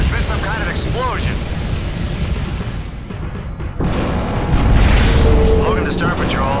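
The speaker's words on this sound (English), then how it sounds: "There's been some kind of explosion." A starbase explosion in the space game Tachyon: The Fringe rumbles as a heavy, sustained boom with rolling low-end energy and crackling bursts, swelling again midway, mixed with game sound effects.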